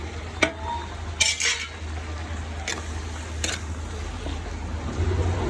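Prawns go into sautéed onions and chopped green chilli in a pan for chemmeen thoran, giving a few sharp utensil clinks and clatters over a soft, steady sizzle, with no talking.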